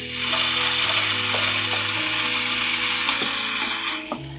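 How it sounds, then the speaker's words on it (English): Bacon sizzling in a hot skillet over medium-high heat, a steady, close crackling hiss with a few small pops, no talking. "I'm gonna add in the bacon."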